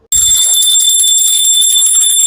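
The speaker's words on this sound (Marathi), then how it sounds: "घंटी असेल तर असे घंटीचा नाद नक्की करा घरामध्ये" A small hand bell rings continuously at home during an Amavasya puja, a bright, sustained metallic ringing that is loud and close, heard alone after a brief low knock at the start.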